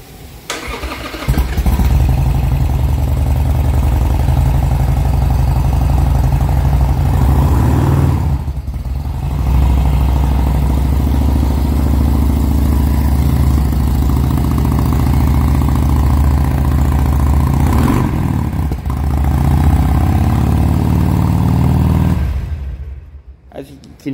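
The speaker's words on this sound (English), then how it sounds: "I'm going to start the bike up for you so you have a better idea what it sounds like" A 2020 Harley-Davidson Sportster 883 Iron cranks and fires up, then settles into a loud, steady low rumbling idle close by, with a brief dip midway and the engine cutting off at the end.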